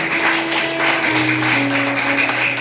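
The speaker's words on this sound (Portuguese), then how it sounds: "Aplauda Jesus, bem forte." A church congregation at an Assembly of God service in Sítio Grossos, Aurora, Ceará, claps for Jesus, a brisk wash of many hands beneath sustained organ or keyboard tones, loud and close throughout.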